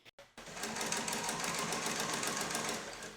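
A sewing machine topstitches a denim jeans waistband, running steadily and continuously after a brief start and short pause, with a fast, even stitching hum close up.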